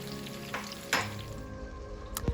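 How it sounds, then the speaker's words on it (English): Tomatoes and green chilli added to a pan of ginger and garlic give a soft steady sizzle, punctuated by a couple of brief stirring scrapes and clinks, with no one talking. "Add the tomatoes and the green chilli."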